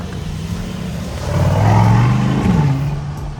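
An Aston Martin DBX707 SUV pulls away on a city street in Montréal, its engine note rising into a brief rev before settling, fairly close and clear with no talk over it.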